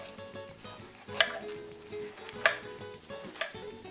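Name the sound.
knife chopping cabbage for coleslaw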